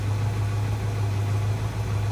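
An engine idles steadily after about twenty minutes of running, a smooth constant hum with a low drone and no revving, close and alone.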